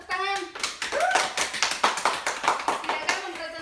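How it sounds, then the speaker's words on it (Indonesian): A classroom of primary school children breaks into a burst of rapid, close clapping after a brief voice, the quick claps carrying on to the end with a little speech mixed in. "Tepuk tangan"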